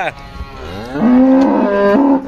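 A cow lets out one long, loud, close moo that rises and holds steady before tapering off.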